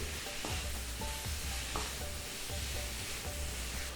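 Pepper chicken with a black pepper and fennel mix is stirred in a hot pan, with continuous close sizzling and frying plus repeated scraping and clinking strokes of the spoon.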